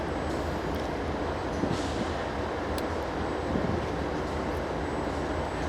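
Amtrak 579 passenger train rolling by slowly, a steady broad rumble with wind noise and no distinct horn or clatter peaks, continuous for several seconds.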